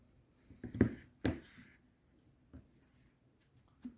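A Nitecore MT1A Pro AA/14500 flashlight's switch being pressed, giving a few sharp, close clicks with soft handling rubs between them in a quiet room.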